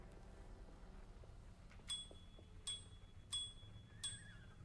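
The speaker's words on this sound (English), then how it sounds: "What is with the bells?" Bells ringing in the horror game Alone In The Dark, four bright, clear chimes at a steady pace over a quiet, low ambient background.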